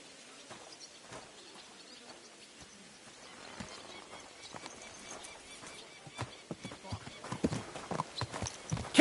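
A horse's hooves clip-clop at a steady walking rhythm in the medieval video game Kingdom Come: Deliverance II. The hoofbeats start faint and grow louder toward the end, with birdsong in the background.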